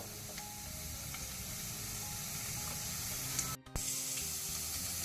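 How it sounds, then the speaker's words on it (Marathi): Garlic cloves sizzle in hot sunflower oil for an Indian chilly chicken dish, giving a steady close frying hiss that briefly cuts out near the end before resuming. "तेल उन जावन येताना ताका आमी ह्यो 4 लसणीच्यो बयो कोसर केल्ल्यो त्यो घालच्यो।"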